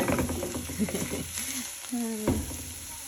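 An egg omelette with onions cooks in a cast iron skillet, a close, steady sizzle running through the short stretch while a voice talks over it.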